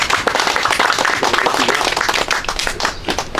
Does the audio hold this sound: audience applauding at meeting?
yes